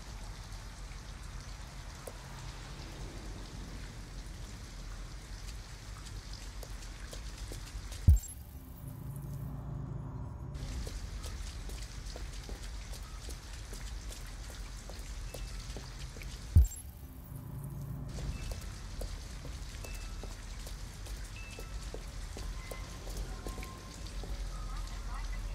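Steady rainfall in the video game Detroit Become Human patters continuously on surfaces, with two sharp knocks and brief dips where the rain drops out, while voices speak over it.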